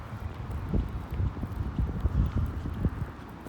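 Outdoor wind in a shop car park on a cold, chilly early morning, a steady low rumbling buffet with gusty thumps against the microphone, no talking.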